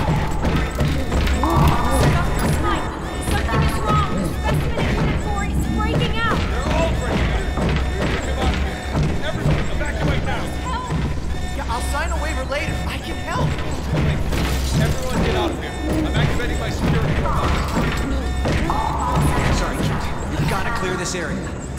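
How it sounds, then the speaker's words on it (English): A creature smashing through glass in The Amazing Spider-Man game, heard as repeated heavy crashes, thuds and shattering bursts over dense in-game action, with characters talking over the commotion. "It's breaking the glass! It's breaking out!"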